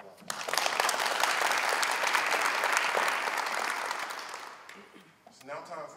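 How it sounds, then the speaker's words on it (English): Full applause from the crowd at a police academy graduation swells quickly and holds steady before fading out, with a voice starting to speak at the tail end. "Please give Mr. Michael Thurman another round of applause"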